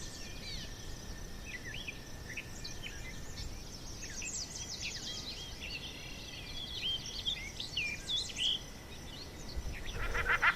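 Dense colony of birds, shelduck among them, calling constantly in a spring nature reserve on the Île de Ré, with overlapping chirps and whistles at close and middle distance over a steady outdoor hiss.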